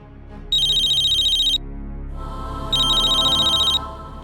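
A telephone rings in two bursts of a bright electronic trill, each about a second long, separated by a pause while a call is placed; no one speaks.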